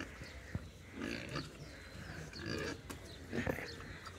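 Pigs on a pig farm in Goyla village, Muzaffarnagar district, grunt and snuffle in a low, continuous murmur with scattered brief squeals, fairly faint against background noise.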